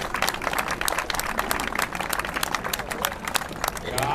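Applause for inline skaters at the festive opening of a skating track in Heemskerk: scattered clapping from a crowd outdoors, steady and moderately loud, mixed with crowd noise and some voices throughout.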